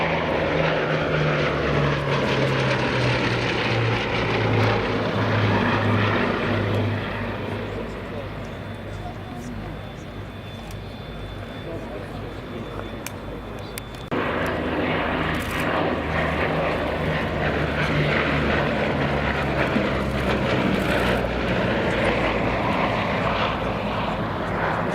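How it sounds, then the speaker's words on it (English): A restored Bristol Blenheim fighter in 23 Squadron markings passes at an RAF Cosford airshow, its piston engines and propellers droning loudly, dipping in the middle, then swelling again, with crowd and commentary faintly beneath. "It's re-emerged as a number 23 Squadron Blenheim fighter."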